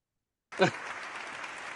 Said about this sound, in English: We'll do another applause break.